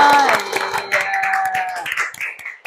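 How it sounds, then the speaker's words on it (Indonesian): Clapping from a small group in a classroom, a short burst of close applause mixed with voices, fading out within a few seconds. "tepuk tangan dong buat kita semua"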